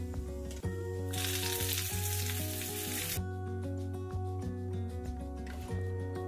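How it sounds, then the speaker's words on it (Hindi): A tempering of mustard seeds, broken red chilli and curry leaves poured into peanut chutney hisses in a loud, bright burst lasting about two seconds, then settles to a quieter crackle under background music. "अब ये तड़का हम चटनी में डाल देंगे।"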